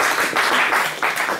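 Brief burst of clapping from a group, dense and steady, with no voices.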